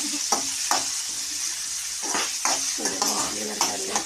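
Pieces of liver for a liver curry fry in a pan with a continuous soft sizzle, broken by repeated scraping stir strokes every second or so.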